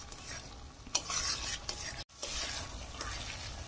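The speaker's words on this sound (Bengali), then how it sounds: "দিয়ে মশলাটা আমি ভালো করে কষে নেবো।" Masala stir-fried in a pan makes a close, steady sizzle with scraping stirs and faint utensil clinks, briefly cutting out near the middle before resuming; no speech.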